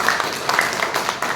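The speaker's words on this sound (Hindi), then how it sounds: "एक बार जोरदार तालियां बजाएं।" An audience at an agriculture company gathering gives a burst of clapping, dense and fairly loud, with a few brighter whoops or voices rising through the steady applause.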